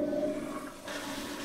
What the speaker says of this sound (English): we tend to flush it down the toilet